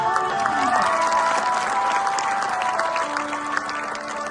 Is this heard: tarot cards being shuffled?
no